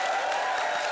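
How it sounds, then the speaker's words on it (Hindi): A studio audience at a comedy show breaks into brief, dense applause, a short burst of many hands clapping together. "एक बार जोरदार तालियां हो जाए।"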